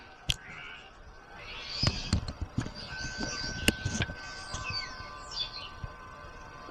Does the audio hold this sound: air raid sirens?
no